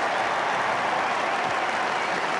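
Steady, dense applause from the crowd at a Headingley cricket Test in 1976, a continuous clapping wash that holds throughout at fairly close range.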